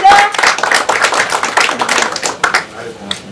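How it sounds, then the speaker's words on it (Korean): Seminar audience at a Mapo Forum meeting clapping for district head Cho Eun-hee: a run of sharp, uneven hand claps that rises and thins over a few seconds, with voices talking over it. "큰 경의의 박수 한번 드립니다"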